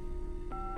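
A single short telephone keypad tone sounds in a Nancy Drew video game, a clean dual-pitch beep at the end of a brief stretch with a faint steady hum underneath.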